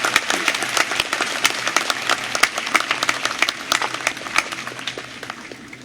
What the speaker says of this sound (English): Let's give one more round of applause for our very distinguished honoree.